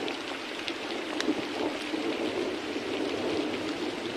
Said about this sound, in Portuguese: está a chover muito.